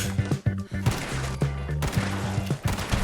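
Lever action rifle fired in Fallout 76 with an anti-armour explosive build, a run of loud, sharp shots coming in quick bursts over game music, with short pauses between.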